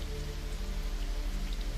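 Rain falls steadily and evenly, a dense continuous patter and wash of drops at moderate loudness with no other sounds.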